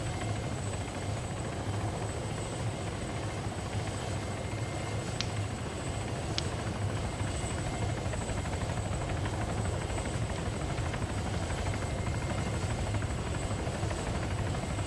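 A helicopter hovers in the Arma 3 video game, a steady droning rotor and engine noise holding at an even moderate level throughout with no talk.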